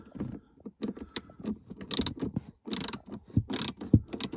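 Ratchet with an extended Torx bit loosening screws inside a Jaguar XJ X350, producing close bursts of rapid clicking pawl ratcheting interspersed with softer handling knocks, with no talking.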